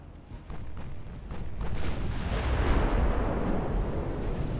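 Naval guns firing in the warship game Ultimate Admiral Dreadnoughts, heavy booming salvos and rumbling blasts overlapping into a loud sustained barrage that builds over a few seconds, without any talking.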